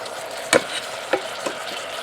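Korean-style beef ribs brown in an Instant Pot pressure cooker with a soft steady sizzle, broken by a few distinct scraping, clattering stirs as the meat is turned.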